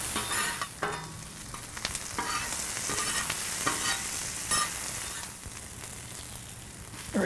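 Brown onions frying on a hot flat-top griddle, a continuous loud sizzle broken by scraping strokes of a spatula as they are stirred and pushed around, close up and with no talk.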